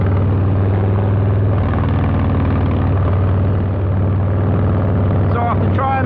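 A 2022 Harley-Davidson Low Rider S with a TBR exhaust rumbles loudly and steadily, a deep continuous engine drone throughout.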